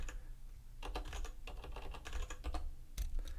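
A domain name is typed on a computer keyboard in quick bursts of close, crisp key clicks, with short pauses between clusters.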